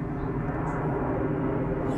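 An airplane flies overhead, a steady low broadband engine roar that holds at an even level for the whole two seconds with no talking over it.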